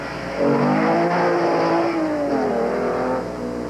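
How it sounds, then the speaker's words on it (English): Heavily modified autocross car with engine and carburetion modifications revving loudly at a 1988 Canadian Solo 2 Nationals event, the engine note rising and falling in pitch over a few seconds, close and prominent. "It's probably the loudest car here."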